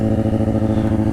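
A motorcycle engine runs steadily at a constant pitch, a loud, close, pulsing drone with no pauses.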